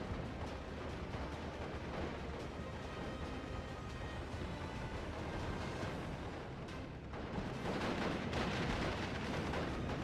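Artillery fire in the World War II strategy game Steel Division 44 rumbles as a dense, continuous wall of booming blasts and distant gunfire that swells louder toward the end.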